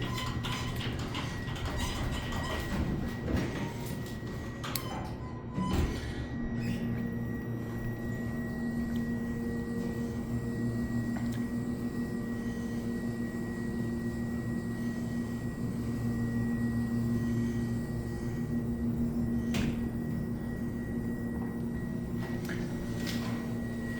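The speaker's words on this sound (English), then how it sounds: "Take it for one more ride just to get the motor and going up." Otis hydraulic elevator motor running through a ride at Jefferson Station in Center City, a steady low mechanical hum with a faint whine that holds for the whole stretch, with a few small clicks and knocks and no talk.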